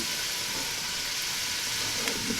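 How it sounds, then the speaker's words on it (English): Vegetables for a goulash sizzle steadily in hot oil, a continuous close hiss and crackle with no talk over it. "They should make that little sizzling sound when you put them in."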